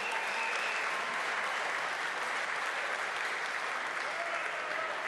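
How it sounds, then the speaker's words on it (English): Arena crowd applauding two boxers after a featherweight championship fight, a steady, even roar of many hands clapping throughout, somewhat distant and uniform with a faint whistle or two. "A round of applause for these two fighters."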